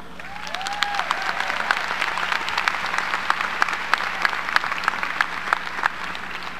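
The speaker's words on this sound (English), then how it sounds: "Graduates, please join me in a round of applause for your speaker, Commencement 2018, Mr. Rob Hardy." A graduation audience at a 2018 commencement ceremony applauds the speaker, with steady sustained clapping from a large crowd filling the space throughout, sharp individual claps standing out above the wash.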